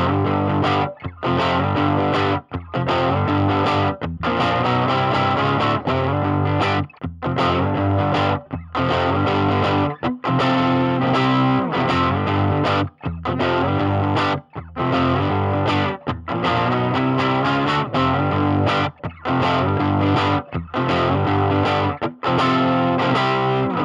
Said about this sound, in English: let's crank up the Champ to get some tube distortion